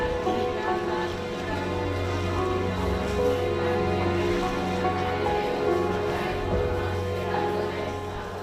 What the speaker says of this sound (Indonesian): Berbaur dengan deburan ombak laut Flores